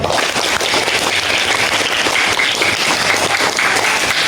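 A group of Pramuka scouts claps together in a dense, steady burst that stays loud and close for its whole length, with no break in the sound.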